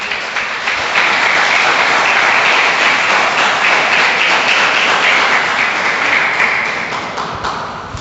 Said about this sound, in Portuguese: Você pode aplaudir a Ele, igreja?